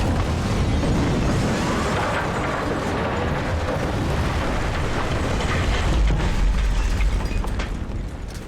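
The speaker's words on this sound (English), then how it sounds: "25mm cannon on the Little Bird." A 25mm cannon fires from a Little Bird helicopter in Battlefield 4 amid loud, dense, continuous booming and explosive crackle lasting several seconds, fading slightly at the end.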